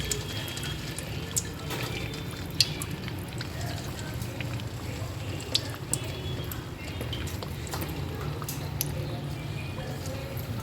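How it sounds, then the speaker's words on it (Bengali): Vegetable chops fry in hot refined oil over a medium flame, giving a steady, even sizzle and bubble with a few small pops scattered through it. "ভালো করে তেলটাকে গরম করে নিয়েছি, নিয়ে মিডিয়ামে একটু আঁচটাকে করে নিয়েছি। এবার চপগুলো দিয়ে দেবো।"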